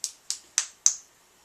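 Four sharp hand claps in an even rhythm, close and fairly loud, each ending in a short decay, with no talking.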